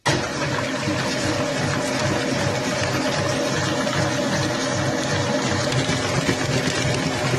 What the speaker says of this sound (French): Je vais mettre en pleine puissance avec le fouet pour la faire refroidir.